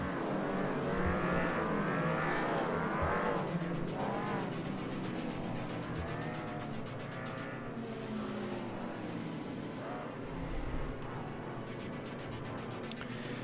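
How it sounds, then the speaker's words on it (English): Several 2-litre hot rod race cars roll around a circuit before a Dutch Open championship race, engines droning and revving steadily at a moderate distance as the pack passes. "The yellow flag goes up and we are away and rolling for one final lap ahead of this 30-lap race for the 2-litre hot rods."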